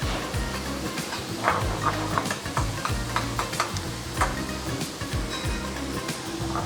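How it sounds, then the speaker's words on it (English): Food stirred and sautéing in a pan, with a steady soft sizzle under repeated scraping and stirring strokes, close and continuous throughout. "we want to saute that until it's translucent, meaning a little bit clear"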